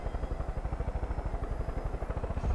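Helicopter in the video game Far Cry 5, a steady low rotor chop with rapid even beats that carries on throughout at moderate loudness, with no voices over it.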